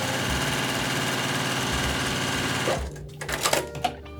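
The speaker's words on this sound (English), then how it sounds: "I'm gonna put this into my sewing machine." A sewing machine stitching fabric runs in a fast, steady mechanical chatter for nearly three seconds, then stops, leaving a few soft clicks and handling noises.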